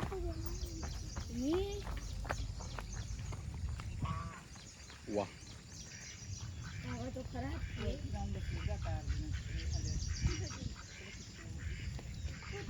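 Ducks quack repeatedly in short nasal bursts on water at Taljai hill, some nearby and some farther off, over a low background rumble and occasional talk.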